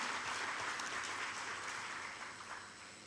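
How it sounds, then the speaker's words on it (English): Audience at a hospital anniversary celebration in Fiji gives a long round of applause, dense continuous clapping from a large crowd heard quietly and at a distance, tapering slightly toward the end. "join me in offering our heartfelt gratitude through, once again, a thunderous round of applause"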